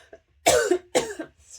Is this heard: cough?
yes